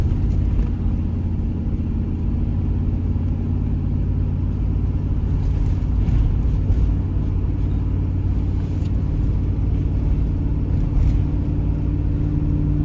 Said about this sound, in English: second gear. RPMs are going up.